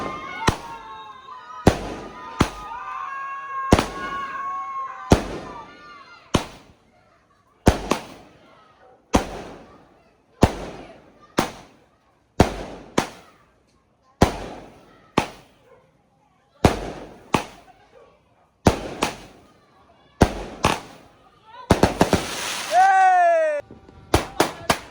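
A New Year fireworks finale in Cavite, with a fountain lit as the closing piece: a long run of loud, sharp bangs at irregular intervals, several crackling bursts in quick succession near the end, and voices shouting and cheering underneath.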